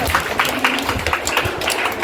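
Sustained applause from an audience welcoming guests at a school Onam celebration, steady dense clapping throughout with some voices mixed in.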